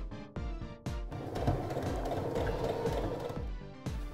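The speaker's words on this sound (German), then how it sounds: "Ich zeige dir jetzt, wie diese Kurven genäht werden." A sewing machine stitches curved seams in fabric, running in close bursts with a fast mechanical rhythm, pausing briefly twice in the first second and again near the end, with no talking.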